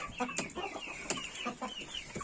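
A rooster and hen cluck softly and repeatedly in short bursts, a few birds close by with scattered higher calls, quiet and without talking.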